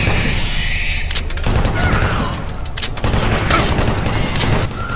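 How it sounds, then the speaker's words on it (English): Rapid gunfire from the Doom 3 video game, dense bursts of shots and impacts loud and close across the whole stretch, with a brief pause before the firing resumes. "I shoot them once and I shoot their wings off"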